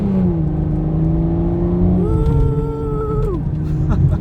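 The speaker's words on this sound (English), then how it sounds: "Let's hope we don't have any traffic in front of us, 'cause this car wants to run." A car accelerates hard on a road with traffic ahead, its engine note climbing in steady sweeps through several upshifts under a constant low drone, loud and close.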